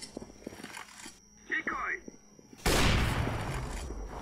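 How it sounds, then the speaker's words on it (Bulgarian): Gunfire in the game CS:GO crackles through a mix of clicks and game noise, ending in a loud sustained burst of shots, with a person talking throughout. "Тук много избърза с изстрела."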